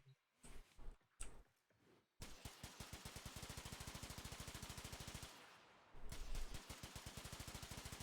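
Aksomati Prime firing in a video game: a brief wind-up of a few scattered shots gives way to a long, rapid, evenly spaced stream of loud automatic fire, pausing briefly before resuming at the same quick rhythm.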